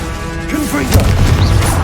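A Confringo fire-blast spell in the video game Hogwarts Legacy bursts with a loud boom and crackling rumble, preceded by whooshing magical swishes.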